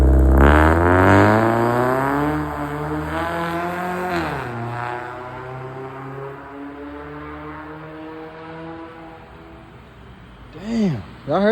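A Scion tC with an aggressive aftermarket exhaust revs up loudly, its pitch climbing and dropping through several hard pulls before settling to a rumbling idle, with a sharper burst near the end.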